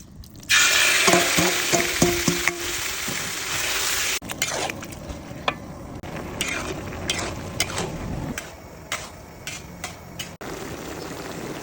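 Marinated pork stir-fried in a hot pan for a Thai shrimp-paste rice dish, loud steady sizzling with repeated scraping and clattering of a utensil against the pan, close up and with no talking.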